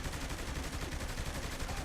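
Shotgun blasts ring out in the video game Saints Row: The Third, dense repeated gunfire that stays loud and continuous, with no talking over it.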